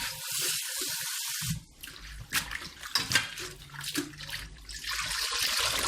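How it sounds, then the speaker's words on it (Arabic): Food being washed with vinegar under a running kitchen tap, steady gushing water at the start and end with splashing, rubbing and clattering in between, close and fairly loud, with no talking. "غادي نغسلهم اكثر من مره."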